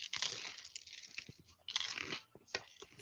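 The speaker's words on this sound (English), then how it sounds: "Excuse the crunching of this delicious baked pizza from Cello's in Lower East Village." Crunchy bites into a baked pizza from a New York pizzeria, close and quiet, with several sharp crackling bursts and softer chewing between them.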